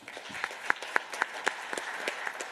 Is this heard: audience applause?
yes